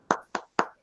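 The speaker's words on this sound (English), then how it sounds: "definite round of applause for Brian." Four sharp, evenly spaced hand claps sound close to the microphone, a short round of applause for a presenter at an amateur radio meeting.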